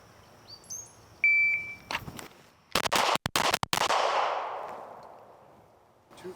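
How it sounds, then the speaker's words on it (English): A shot-timer beep followed by a rapid string of loud pistol shots from a Canik TTI Combat during a drill, the cracks close together and echoing before fading out. "That's doing a little bit of shooting with all three of these."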